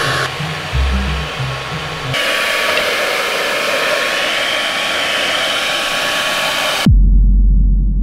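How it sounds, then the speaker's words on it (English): Steady, loud whooshing hair dryer blowing continuously for several seconds, cutting off abruptly near the end. "I got the hairdryer to try and speed things up"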